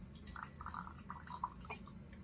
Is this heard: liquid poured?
yes